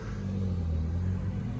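At a car meet, a car engine rumbles at a low idle, a steady deep drone close by with no voices.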